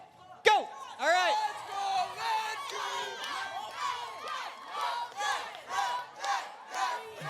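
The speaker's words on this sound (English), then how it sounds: "Big cheering from the red team." A crowd of young people on the red team cheers and shouts at a church youth group game, a loud, sustained roar of overlapping voices rising in repeated surges after a sharp opening slam.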